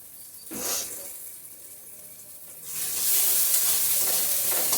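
Ridge gourd cooking in a pan with Kashmiri chilli powder, ground green chilli and salt, sizzling steadily as it is stirred, with a brief scraping burst early on and the frying noise swelling louder and denser in the second half.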